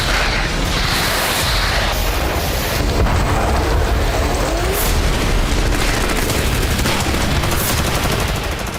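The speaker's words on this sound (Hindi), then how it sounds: "भारी गोलाबारी शुरू हो गई" Heavy shelling and gunfire in a forest near Siversk, with dense bursts of shots and booms packed together, loud and continuous, and wind buffeting the microphone throughout.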